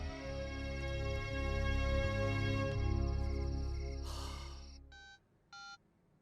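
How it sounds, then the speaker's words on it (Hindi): A telephone rings in a 2013 Hindi devotional film scene, a sustained steady tone that cuts off into two short electronic ring bursts, with no speech. "गुप्ता जी का फोन था"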